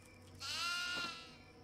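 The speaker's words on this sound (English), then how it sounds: "Hey, goats." A single goat bleats once in the Devour horror video game, a short wavering cry rising out of a quiet background and fading away.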